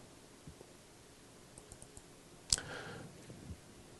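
A computer mouse gives faint, sparse clicks in a quiet room, with one sharper click standing out midway and soft ticks and rustles around it, and no one speaking.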